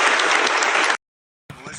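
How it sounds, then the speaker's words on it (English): An audience applauds loudly with dense, even clapping that stops abruptly and then starts up again, heard alone with no talk. "just got a round of applause"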